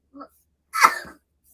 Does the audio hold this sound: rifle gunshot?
no